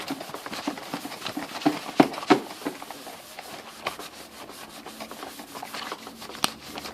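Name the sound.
wiping detergent off window blinds with wet microfiber cloth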